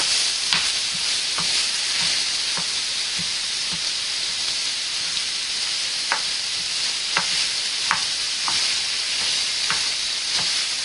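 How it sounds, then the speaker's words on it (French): Sausage meat and minced beef sizzle in a pan alongside onion and garlic, a continuous close hiss broken by regular scraping taps as a spatula crumbles the mixture, with no one speaking. "on va prendre une spatule pour émietter notre mélange de chair à saucisse et de viande hachée"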